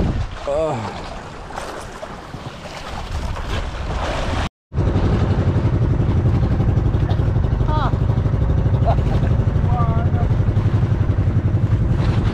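A boat engine drones steadily and loudly, briefly cutting out before resuming its constant rumble, with voices talking over it.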